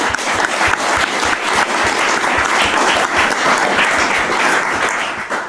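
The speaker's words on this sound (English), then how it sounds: "So, big round of applause for Lina." A conference audience gives a loud, sustained round of applause for an organizer, with thick continuous clapping and distinct nearby claps punching through at an even level from start to finish.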